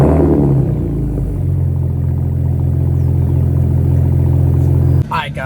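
Car engine starting and settling into a steady low rumble before a drive, close and loud, then cut off abruptly near the end as a voice speaks.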